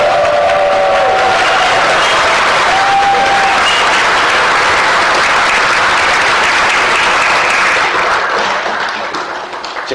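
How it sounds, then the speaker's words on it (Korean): Loud, dense applause from an audience at a citizens' group annual general meeting, continuous clapping sustained for about ten seconds and easing slightly toward the end. "박수 한번 보내주세요."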